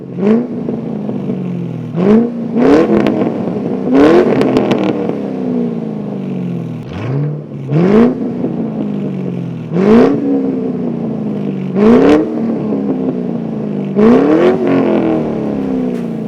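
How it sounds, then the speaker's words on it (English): A loud, deep Ford Mustang GT V8 with an SLP Loudmouth axle-back exhaust revving repeatedly, each throttle blip rising to a roar and dropping back to a rumbling idle, close by. "the loudmouth system totally changes the sound of the Mustang."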